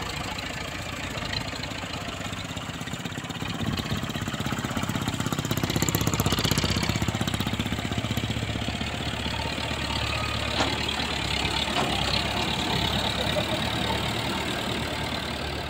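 Massey Ferguson 165 tractor engine running nearby as it is shifted into reverse, a loud steady diesel chug that swells slightly midway and holds a constant rumbling drone throughout, no clear talking.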